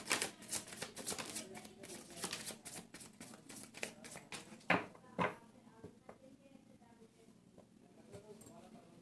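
Tarot cards shuffled by hand, a quick run of crisp riffling clicks for about five seconds, ending in a couple of sharper slaps before softer handling noise follows.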